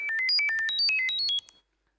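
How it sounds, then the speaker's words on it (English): A phone plays an SOS text message encoded as sound, a quick run of bright, stepping electronic tones in rapid rhythm lasting about a second and a half, then silence. "So this is the SOS message decoded in sound"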